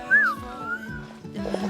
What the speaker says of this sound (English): A whoop whistle from a bird.